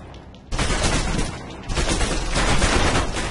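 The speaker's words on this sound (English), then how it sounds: "The hell with aiming, these are machine guns. Just fire." Machine gun fire in the video game Alpha Protocol, a loud sustained burst that starts abruptly after a quiet moment, breaks briefly, then resumes in a dense, rapid stream.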